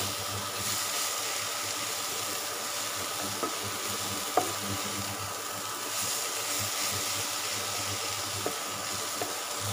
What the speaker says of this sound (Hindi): ये तब तब तक भूनना है जब तक गाजरें घी नहीं छोड़ती